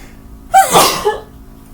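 A single loud, close sneeze bursts out with a sharp onset and trails off over about a second, with no talk around it.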